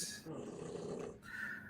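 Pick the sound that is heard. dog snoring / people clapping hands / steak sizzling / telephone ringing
dog snoring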